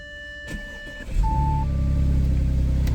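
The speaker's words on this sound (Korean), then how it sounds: "자 시동을 한번 걸어봅시다" Audi A7 engine cranking and starting, a short starter whir rising into a steady, loud idle that settles and holds, with a brief chime tone just before it fires and no voices.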